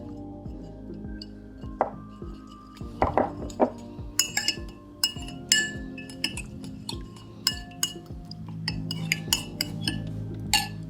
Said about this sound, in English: So this is our 2 egg yolk, 2 tablespoons of butter, okay? You wanna give it a mix.